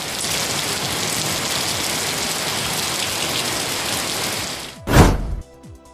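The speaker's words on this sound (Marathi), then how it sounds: "सोलापूर शहरात रविवारी रात्री अनेक भागात अर्धा तास झाला दमदार पाऊस" Heavy rain pours down at night over Solapur city, a dense, steady hiss of drops that fills the clip and ends in a sudden loud, low thump.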